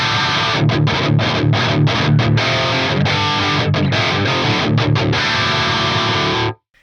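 Heavily distorted electric guitar through a USA Lead amp model with a boogie-style voicing, tight chunky low end and clear gain, chugging in rhythmic palm-muted bursts with short gaps, loud and close, then stopping abruptly.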